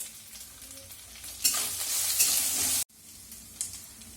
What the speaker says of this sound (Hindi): एबे एथिरे छेचिकी रखिथिबा कंचा लंका एवं अदा को देबा